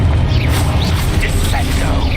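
A Confringo spell blast in the video game Hogwarts Legacy hits as a loud, dense low rumble of booming, crackling combat effects with little pause.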